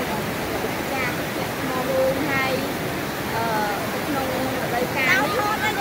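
Water flowing over rock at Thmar Rong waterfall makes a steady, broad rushing that runs the whole time beneath people talking nearby.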